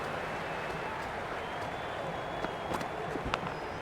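Steady crowd noise from a Twenty20 cricket match between Brisbane Heat and Melbourne Stars in the video game Cricket 26, a continuous roar running throughout with a few sharper bursts of cheering near the end.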